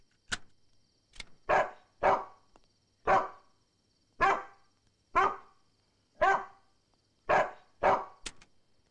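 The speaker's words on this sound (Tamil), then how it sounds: "நாய் கொலைக்கிற சத்தம்?" A dog barks repeatedly at night, about a dozen sharp, evenly spaced barks, clear and fairly close, with no talking.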